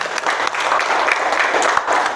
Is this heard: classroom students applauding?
yes